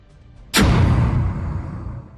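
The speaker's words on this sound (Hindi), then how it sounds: "वहां हर पल कैसे धमाकों की आवाज लगातार सुनाई दे रही है" A single sudden, loud explosion bursts out in Ashkelon, Israel, during the Israel-Hamas war, then trails off into a long, heavy rumbling decay, with no voices.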